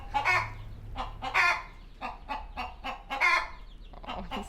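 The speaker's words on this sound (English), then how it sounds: "And chickens." Chickens cluck in a big farm barn, several birds in quick overlapping bursts, loud and close, with brief pauses between the clusters of calls.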